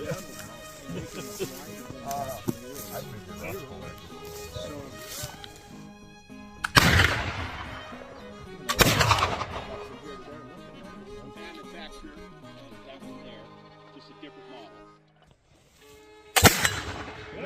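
Flintlock muzzleloader rifles fired outdoors, with two loud sharp shots a couple of seconds apart and a third shot near the end, set against a background of people talking and ambient noise.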